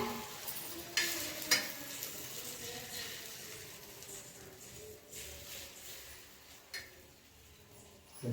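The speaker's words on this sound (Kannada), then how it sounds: "ಎಣ್ಣೆ ಹಾಕಿದ್ದೀನಿ ಇವಾಗ ಒಂದು ಆಮ್ಲೆಟ್ ಹಾಕ್ತಾಯಿದ್ದೀನಿ" Omelette mixture for a bread omelette frying in oil in a pan, a steady soft sizzle with a few sharp clinks of utensils against the pan.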